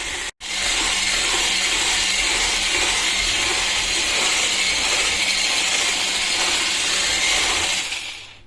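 Electric hand mixer whipping cheese casserole batter, a loud steady whirring hiss that starts abruptly after a short cut and holds evenly for about eight seconds before stopping, no voices over it.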